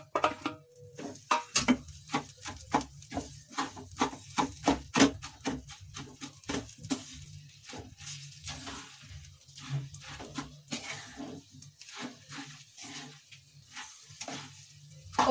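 A spoon stirs a roasted turmeric ladoo mixture in a pan, making steady scraping and tapping strokes in an even rhythm, close and fairly quiet, with no talking.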